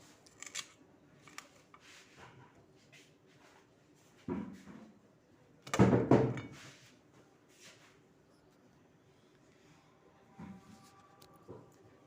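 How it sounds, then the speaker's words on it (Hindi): Tomatoes being cut with a knife while preparing a curry in a home kitchen in Dubai, heard as scattered soft cutting and tapping sounds with a few louder bursts, fairly close and otherwise quiet, with no talk. "शुरू कर रहे हैं आज टमाटर काटने"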